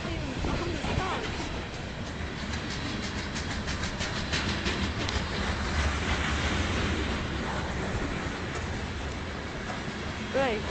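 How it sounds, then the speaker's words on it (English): A short freight train of under a hundred cars rolls past close by, a steady low rumble with rhythmic wheel clatter and rail squeal, carrying on without a break throughout. "Oh, this actually isn't that long of a freight."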